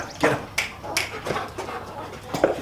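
A puppy whimpering nearby in short, high, plaintive yelps, repeated several times at an uneven pace.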